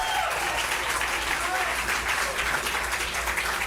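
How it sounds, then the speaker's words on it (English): A crowd of supporters applauds at a U.S. Senate primary election-night rally for Debbie Stabenow, a loud continuous wash of clapping and cheering with a low hum underneath. "Can we give one more round of applause to the amazing Debbie Stabenow?"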